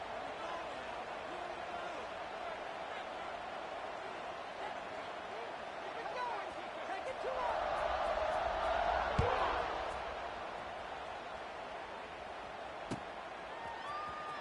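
A football stadium crowd buzzes steadily after a score, a broad distant roar that swells for a few seconds midway and then settles. A commentator talks over it throughout.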